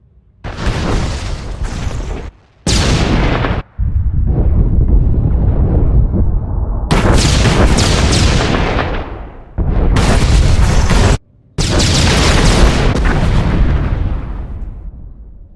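Heavy booms and bursts of gunfire fill a Star Wars video game battle, loud and near, coming in several dense blasts broken by brief gaps.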